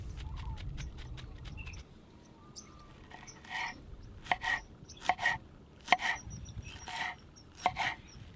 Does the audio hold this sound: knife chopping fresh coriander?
yes